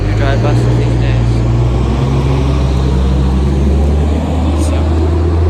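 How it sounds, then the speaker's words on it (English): An old city bus drives past on a town street, a loud, steady low engine rumble and drone that fills the whole stretch, with voices talking over it. "You can hear that's an old bus."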